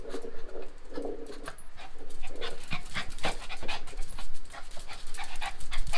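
A dog pants rapidly and close up in quick, rhythmic breaths during an outdoor photo shoot, with small whimpers and some faint background rustling.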